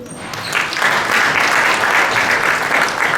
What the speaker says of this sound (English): Would I be wrong to say a round of applause?